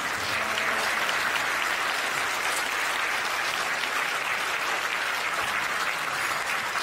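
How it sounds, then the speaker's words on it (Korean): Sustained audience applause after a congratulatory performance at the 2023 Korea PR Awards ceremony, a dense, steady wash of many hands clapping at even loudness throughout, with no voices over it. "우리 따스한 격려의 박수 한번 보내드리면 어떨까요?"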